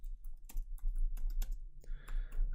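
Quick bursts of key presses as code is typed on a computer keyboard, irregular clicks close by over a low hum, with no talking.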